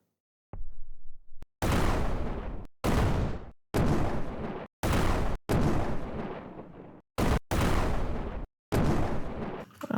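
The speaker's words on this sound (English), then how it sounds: "So let's look for an explosion sound." A string of explosion sound effects auditioned one after another: about nine loud, booming blasts, each with a rumbling, flame-like tail that cuts off abruptly, separated by brief silences.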